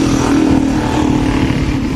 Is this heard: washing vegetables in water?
no